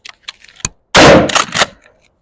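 Two loud, close shotgun blasts from a pump or semi-automatic shotgun, the second following about a third of a second after the first, preceded by faint clicks of handling.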